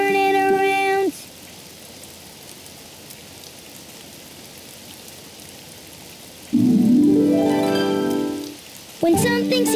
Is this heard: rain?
yes